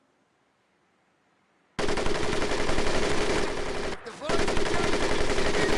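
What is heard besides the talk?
machine gun firing in Medal of Honor: Pacific Assault, from a video game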